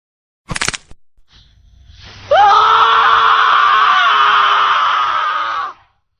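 A sharp snap sounds first, then a long, loud, agonized scream after an arm is twisted against its joint. The scream holds strained and shrill for about three seconds before cutting off.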